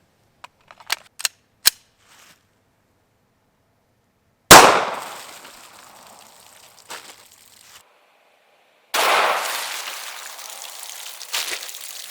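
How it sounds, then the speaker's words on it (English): Glock 17 9mm handgun fired with 147 grain Winchester ammunition into ribs, a few light snapping clicks and then two loud sharp gunshots spaced apart, each ringing out and decaying. "the gun I'm going to use is my Glock 17 full-size 9mm handgun"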